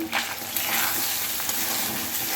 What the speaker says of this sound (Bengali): চুলা বাড়িয়ে দিয়ে রাইসটাকে তেলের উপরে এভাবে ভেজে নেব